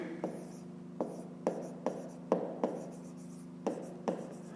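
A pen writing out a math solution on paper, close and quiet, with about ten distinct strokes tapping and scratching at an irregular rhythm and no talking over them.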